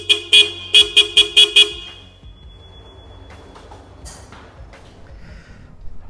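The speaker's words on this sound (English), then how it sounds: "that's the sound and a note of these twin horns" Upgraded twin car horns on a 1996–98 Honda Civic sound six short, sharp toots in a quick uneven rhythm, loud and close, then fall away to quiet background noise.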